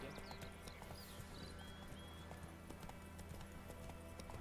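Steady clip-clop of horse hooves on a road in The Witcher 3: Wild Hunt video game, continuous and fairly close, with a few faint bird chirps and a low background hum.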